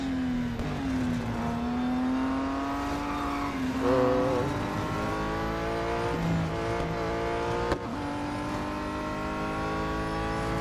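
Race car engine in the mobile racing game Real Racing 3 on its final lap, droning steadily with rising and falling revs, a brief gear-shift dip midway, loud and continuous with no talk.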